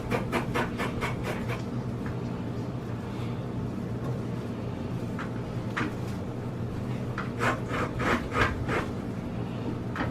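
A lemon being zested on a grater for lemon turmeric rice: close, repeated scraping strokes in quick bursts, some rapid runs and some spaced out, over a steady background hum.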